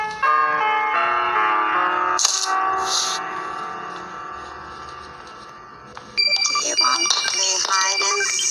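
Bell chimes from the horror video game Granny ring out over game music and ambient tones, two bright bursts early on followed later by a louder run of clustered ringing tones.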